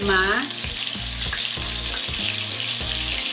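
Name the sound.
frying meat sizzling in pan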